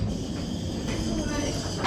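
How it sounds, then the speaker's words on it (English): A Lisbon tram on its route passes just outside an open doorway, a close, steady rumble with broadband rail noise throughout, and a brief brighter squeal near the end. "If I reach out from the door, I could probably touch that tram."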